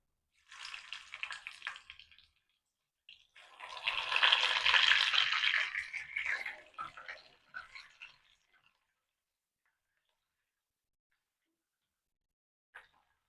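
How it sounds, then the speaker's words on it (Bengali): Paneer cubes fry in melted ghee, a soft hissing sizzle that flares up in two bursts, the second louder and longer, then fades to quiet with a faint tick near the end. "আস্তে আস্তে ডুবো ঘিতে পুরো ভালোভাবে ভেজে নিতে হবে"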